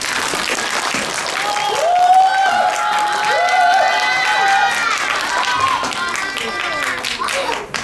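An audience at a third-grade school fair gives loud applause to welcome a student speaker, dense clapping over several seconds with a voice talking over it.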